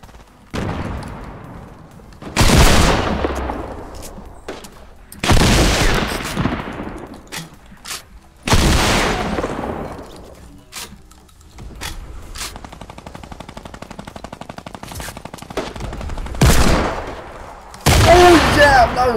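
Gunfire from the Fortnite battle royale video game: several loud bursts of shots in a rapid cluster, separated by pauses, with people talking between them.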